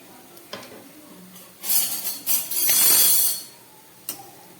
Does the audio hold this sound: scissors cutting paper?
no